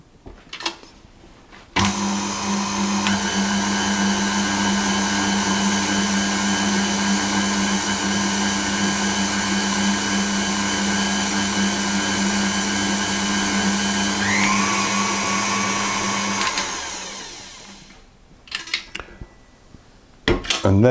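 A food processor or mixer whizzing salt and sugar for brioche dough, a loud steady motor whir running continuously for about fifteen seconds before winding down, with a few clunks before and after.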